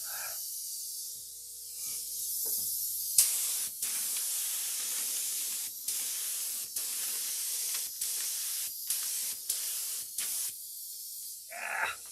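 A spray can puts down adhesive in a string of hissing bursts of varying length across the clip, with short pauses between sprays, close and fairly steady, with no talking.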